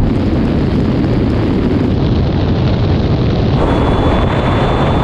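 A Mercedes-AMG GT 63 S accelerates hard from the line in a half-mile drag race, a loud sustained engine roar heavily buffeted by wind noise with no break.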